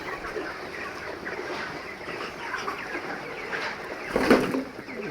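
Flock of 31-day-old broiler chickens in a poultry farm shed keep up a dense, steady clucking murmur, with a brief louder burst of squawking near the end.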